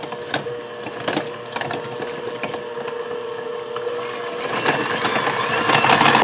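A small KitchenAid mixer whirs steadily while blending an onion-based green chili sauce in a bowl, a continuous mechanical hum with rattling clicks that swells louder toward the end.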